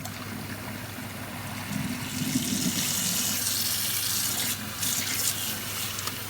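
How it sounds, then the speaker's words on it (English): Tap water runs steadily into a sink while a Hoover Commercial C1310 outer cloth vacuum bag is rinsed, a continuous splashing hiss that swells partway through, alone with no talk. "I'm going to rinse the bag."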